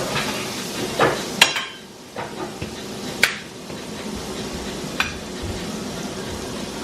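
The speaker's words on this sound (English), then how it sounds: "throw the green beans in there since the pan's already seasoned" Green beans sizzle steadily in an already seasoned pan, a constant loud frying hiss broken by a few sharp clanks and scrapes of stirring.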